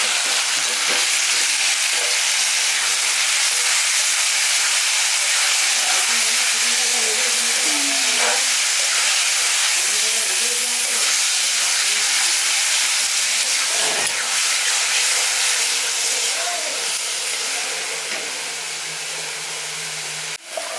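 Freshwater snails (ghugli) with poppy seed sauté in a pan for a Bengali dish, giving a continuous loud sizzle and hissing steam with faint stirring scrapes, steady until it eases slightly near the end.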